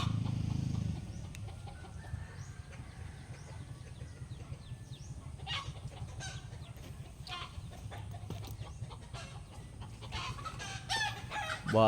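Farmyard chickens in Peñablanca, Cagayan cluck steadily while a rooster crows now and then, moderately near, over low rural background noise and a brief rumble at the start.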